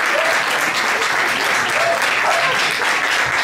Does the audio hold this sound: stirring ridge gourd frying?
no